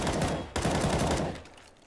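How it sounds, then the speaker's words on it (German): In the video game CS:GO, an M4A4 rifle fires a rapid burst of automatic shots, pauses for a split second and then fires a second longer burst that trails off into echo. "Und zwar hört sich die M4A4 so an."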